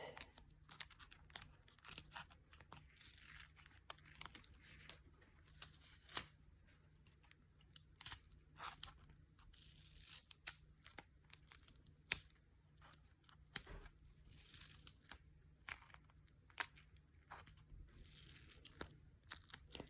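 Scissors snip through triple-stacked sticky card for a fairy greetings card, in a steady run of short, close crisp cuts and faint crinkles, quiet and with no talking.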